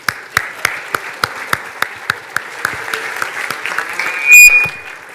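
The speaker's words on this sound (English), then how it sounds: "Let's have a warm round of applause for Ann Wojcicki." A ceremony audience at the Happiness Hall of Fame gives a round of applause for the CEO of 23andMe. Distinct, fairly sparse hand claps come through a steady hum, and a brief electronic tone sounds near the end.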